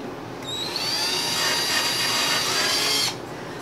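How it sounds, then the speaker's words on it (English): A power drill whirs for a few seconds at steady high speed, drilling holes in an IKEA Laiva bookshelf, starting and stopping abruptly, close by with no talking. "is to take a drill and drill holes in this."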